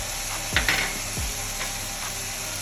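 Garlic paste and soy sauce are stirred in a pan, with a couple of distinct scraping strokes of the spoon over a steady background hiss.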